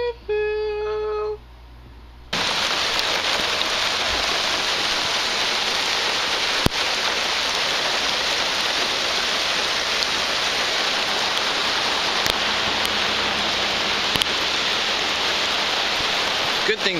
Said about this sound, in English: So obviously it is raining now, which is nice.